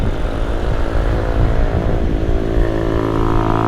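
A big motorcycle passes in congested traffic at night, its loud engine droning steadily close by.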